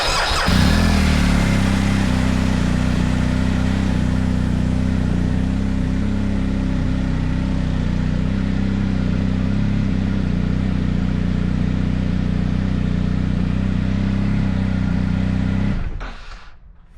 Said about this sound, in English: let's see what happens if we turn the bike on